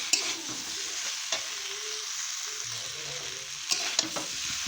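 Potatoes and cauliflower fry in a pan for a prawn cauliflower curry, stirred now and then with a few scrapes and knocks over a soft, steady sizzle, close by, with no talk.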